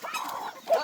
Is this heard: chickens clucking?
yes